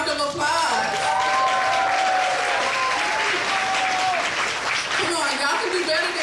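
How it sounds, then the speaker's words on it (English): A graduation audience applauds the honorees, steady clapping filling the room from start to finish, with cheers and voices mixed in, and a few whoops rising above the hands. "Can we give all of our honorees a big round of applause?"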